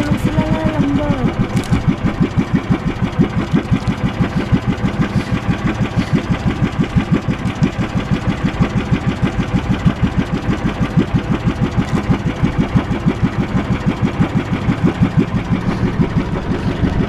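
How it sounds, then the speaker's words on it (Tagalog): A small wooden fishing boat's engine runs steadily in the Philippines, a loud, close, rapid chugging pulse that continues evenly throughout with no pauses. "Ang dating bangka ni Kabugoy."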